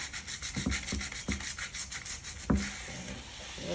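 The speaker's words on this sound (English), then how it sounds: "you want to slide the sandpaper in it so you can get that inner lip." Sandpaper rubbed by hand along the inner lip of a curb-rashed alloy wheel rim, rhythmic close scraping strokes about every third of a second, ending in a sharper knock and softer rubbing.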